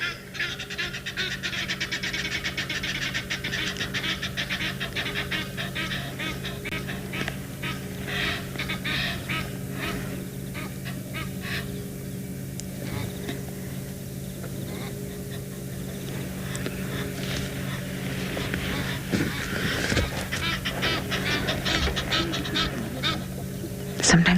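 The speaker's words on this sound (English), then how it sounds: "The Egyptian geese are also not happy." Egyptian geese honking repeatedly near a dam on a South African afternoon safari, loud and close, with bursts of calls over a steady background hum.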